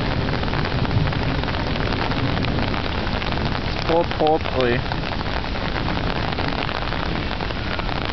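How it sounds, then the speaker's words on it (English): Hail pelting down in a hailstorm, a dense, loud clatter of ice stones striking surfaces nearby, continuing throughout while a person speaks briefly in the middle. "A lot of hail right here."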